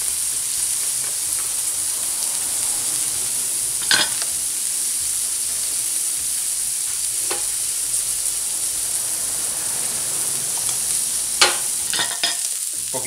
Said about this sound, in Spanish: echamos el jamoncito este que viene en estas tarrinas. Lo echamos aquí. Se fríen un poquillo.